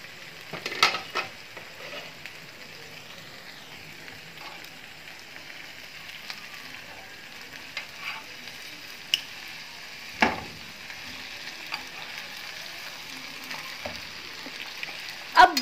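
Chicken tandoori roast sizzling softly in a covered pan, a low steady frying hiss broken by several sharp clatters and scrapes as the pieces are turned.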